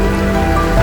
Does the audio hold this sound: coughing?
no